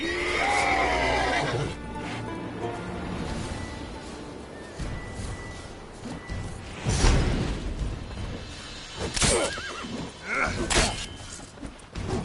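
Roach, a horse in The Witcher 3 video game, gives a loud, close whinny near the start, followed by further snorts and neighing bursts amid game sounds and thuds.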